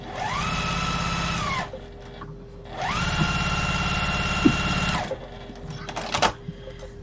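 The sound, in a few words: sewing machine sewing quilt fabric pieces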